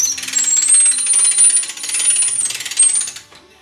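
A hand crank winds a ratchet to pull a coyote pelt off the carcass in a fur barn. Rapid metallic clicking runs in bursts close up, with a high squeak throughout and no voices.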